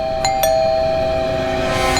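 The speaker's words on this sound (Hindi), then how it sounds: "क्यों पागलों की तरह घंटी बजा रहा है?" A doorbell rings in a home, giving two quick bright chimes close together over a steady tonal hum, with no voices.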